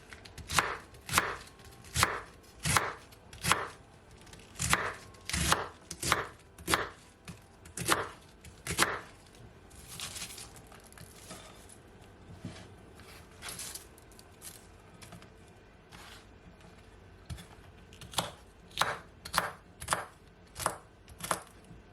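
A knife chops through one small cabbage on a board in steady, loud, evenly spaced strokes, pausing briefly midway before resuming the rapid rhythm, with no talking.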